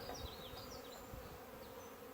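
Honey bees buzz inside a hive box crowded with a small swarm on frames beneath a honey super, giving a faint, continuous close-up hum with a few individual buzzing wingbeats rising above it.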